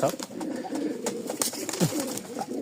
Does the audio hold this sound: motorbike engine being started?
no